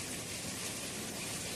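Heavy monsoon rain pounding on a tin sheet roof, a dense, steady, hissing roar that fills the whole short stretch without pause or voices.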